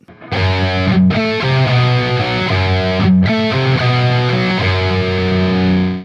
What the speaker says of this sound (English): Let's go to distortion and add the mute.